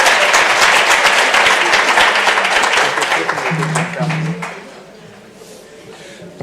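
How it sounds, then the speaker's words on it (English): Audience applause for panelists at a university research symposium, a dense, steady wash of many hands clapping that tapers off after about four seconds, with voices talking over it. "let's give another round of applause to all our panelists"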